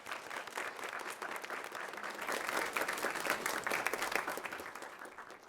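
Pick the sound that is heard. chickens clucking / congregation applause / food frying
congregation applause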